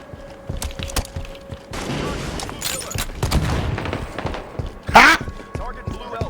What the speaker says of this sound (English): I love those grenades, dude. They're like proximity mines.